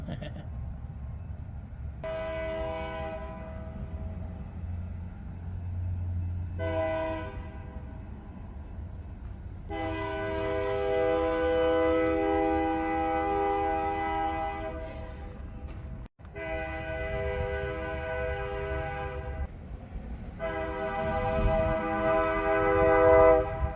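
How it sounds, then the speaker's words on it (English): A train rumbles past near Janesville, Wisconsin, sounding long, loud horn blasts in several bursts over the steady roar of the rail cars. "Oh, we definitely have trains now."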